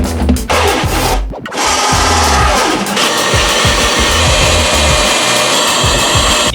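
Power drill whirring steadily as it bores a hole during a demolition and electrical install, loud and close after a brief pause near the start.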